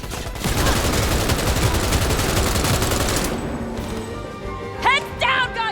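Rapid automatic gunfire from a weapon in Cyberpunk 2077 rattles loudly and continuously for about three seconds, then cuts off, leaving softer game ambience with a few chirping tones near the end.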